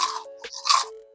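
Crunchy Doritos Simply NKD chip bitten and chewed close to the microphone, a few sharp crackling crunches in quick succession over roughly a second against quiet background.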